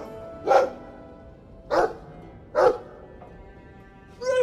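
A Mabari war dog from Dragon Age 2 barks four times, with evenly spaced single barks standing out clearly against a quiet background.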